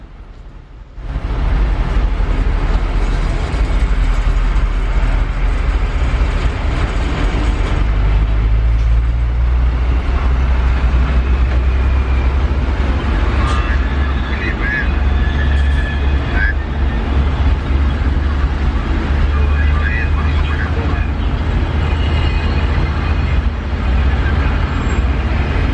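A steady low engine rumble and road roar fill the cab of a Mitsubishi Canter 125 PS truck driving on the Tomang toll road in Jakarta, loud and continuous after a short quiet start, with faint rattles throughout.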